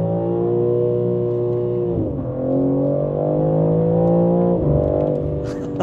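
A BMW M3 Competition on the road pulls hard under acceleration, its engine note droning loud and close and rising steadily, dipping briefly twice as it shifts up through the gears.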